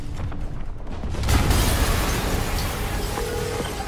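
A deep, rumbling explosion in the Spider-Man PS4 video game bursts out after a moment of quieter ambience, then rolls on as a sustained roar and debris wash.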